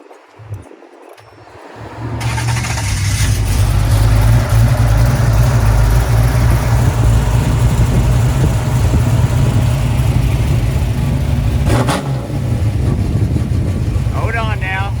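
A hot rod engine with a carburetor cranks and catches, then settles into a loud, steady, rumbling idle close by, with people talking over it.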